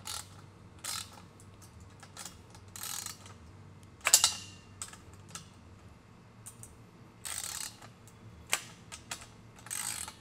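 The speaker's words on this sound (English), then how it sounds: "Then we're gonna throw that washer and hand tight that nut." A washer and nut are spun by hand onto a bolt while assembling a wall-mount cable station, with light metallic ratcheting clicks and scattered clinks and knocks, close and quiet, with no talk.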